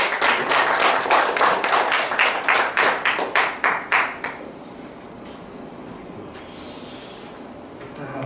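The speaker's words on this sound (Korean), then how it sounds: "박수로" An audience at a seminar applauds to welcome a pastor, brisk clapping from a crowd that grows into quick rhythmic beats, then fades out about halfway, leaving quiet room tone.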